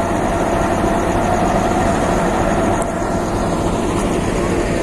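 Logawa passenger train with economy and business classes, idling at a station: a steady, loud low engine drone and broadband rumble continuing unbroken throughout.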